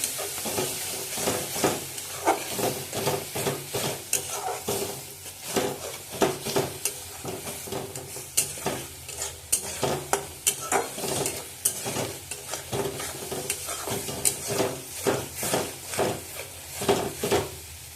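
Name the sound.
spices being sautéed in pan for chicken kasha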